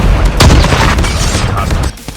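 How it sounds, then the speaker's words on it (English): A Predator missile strike detonates in Call of Duty, a loud, close boom with a sharp impact followed by a rumbling, crackling tail that cuts off abruptly near the end. "Predator missile inbound."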